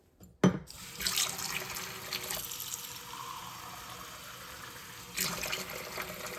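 Water running from a tap while making coffee, starting with a sharp knock and then a steady close stream that swells again near the end.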